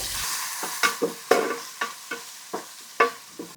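Chopped onion and coriander leaves fry in oil for a village crab curry while a spoon scrapes and stirs the pan in steady, repeated strokes over a continuous soft sizzle.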